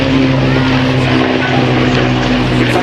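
Loud, steady drone of a Hawker Nimrod vintage biplane's propeller engine running continuously, with a low rumbling hum and constant broadband roar throughout, at an air show.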